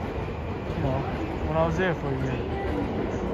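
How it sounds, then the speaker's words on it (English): A train rumbles steadily as it snakes across a green bridge in the Ochanomizu area of Tokyo, heard at a distance beneath someone talking close by over street noise. "that's the train. Check out the train, it snakes through the that bridge I just said I like."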